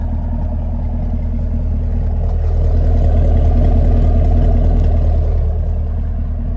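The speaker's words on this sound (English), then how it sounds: "the coveted dual mode exhaust system" Deep, steady exhaust rumble from a 2023 Chevrolet Camaro LT1 RS convertible with the dual mode exhaust, idling close by with a slight swell in the middle and no talk over it.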